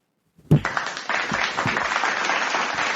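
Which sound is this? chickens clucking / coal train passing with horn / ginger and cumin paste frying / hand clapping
hand clapping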